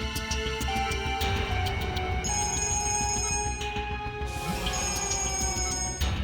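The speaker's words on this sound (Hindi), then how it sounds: "सर, डीसीपी चित्रोले साहब का बार-बार फोन आ रहा है।" A telephone rings repeatedly in an office setting within a crime drama, steady electronic trilling over a dense, busy background of music and room noise, with no one talking.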